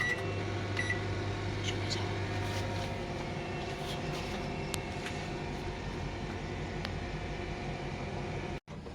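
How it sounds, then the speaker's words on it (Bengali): A microwave oven hums steadily as it heats a chicken sandwich with cheese, a continuous close drone with faint clicks, ending in an abrupt stop near the end. "এবার এটাকে আমি মাইক্রো ওভেনে রেখে দেবো, জাস্ট গরম হতে দিয়ে দিচ্ছি।"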